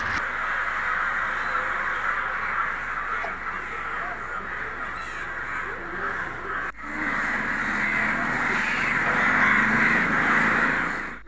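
Crows cawing in a Kerala village: repeated harsh caws from several birds, fairly close and clear over a steady outdoor background, with no talk.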